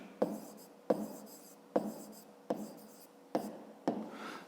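A pen or pencil writes out a grade 5 math exercise solution by hand: six regular scratchy strokes, each a sharp tap fading into a soft scrape, close and quiet, with no voices.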